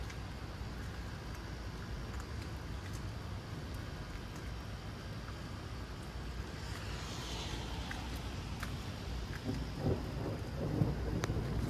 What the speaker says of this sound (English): hear that? That's thunder.